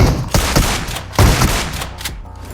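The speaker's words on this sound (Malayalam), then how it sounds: "മൂന്നാമത്തവൻ ഷോട്ട് ഗണ്ണായിട്ട് തന്നെ പുഷ് ചെയ്തു." A shotgun fires in the PUBG video game, a few loud, booming blasts in quick succession, close and heavy, each with a short rumbling tail.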